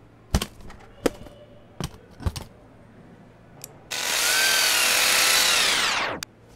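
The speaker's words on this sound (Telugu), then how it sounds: "మార్చ్ చేసిన చోట స్క్రూలు డ్రిల్ చేశారనా?" A power drill drives screws at a spot in a room, heard as one sustained, loud whirring burst of a couple of seconds. Several sharp knocks and clanks come before it, and nobody speaks.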